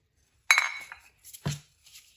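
Peanuts and semolina go into a grinder jar, a sharp clattering pour followed by a second softer rattle, close and clear with no talking.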